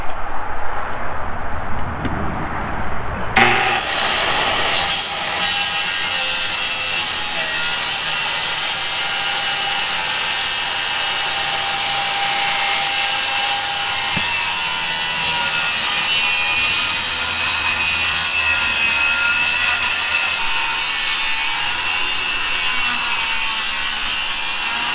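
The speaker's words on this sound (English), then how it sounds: "I'm going to have to get the multi-tool out to finish up a little bit right here" An oscillating multi-tool cuts into the wood of a rotten bottom plate, a loud, steady buzzing grind that starts after a brief quieter lead-in and runs continuously to the end.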